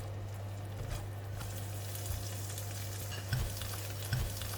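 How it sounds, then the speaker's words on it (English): Egg and light soy sauce frying in a pan while a utensil stirs it toward a marbled scramble: a steady close sizzle with a low hum underneath, broken by a few soft scraping stirs. "As the egg is cooking, stir it to get a nice marbling of egg yolk and egg white,"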